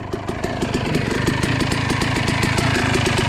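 A 2006 Suzuki RM250 motocross bike with a two-stroke engine idling steadily, a rapid even putter of firing pulses, loud and close with no talking.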